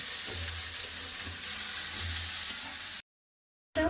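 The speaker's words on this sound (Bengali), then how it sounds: "পেঁয়াজগুলো এটা ভেজে নেবো" Onions frying in leftover fish oil in a kadai while cooking silver carp jhal, a steady close sizzle running for about three seconds before cutting to silence.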